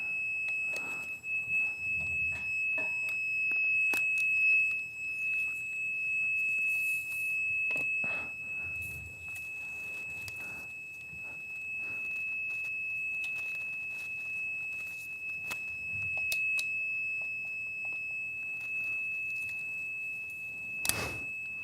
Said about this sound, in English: it still works as a meter, it's just that fucking beeping is stuck on